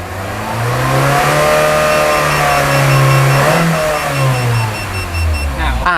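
A car engine revs and climbs steadily toward 4,000 rpm while a faint, rapid electronic beeping from an OBD P10 gauge repeats above it as a gear-shift alert.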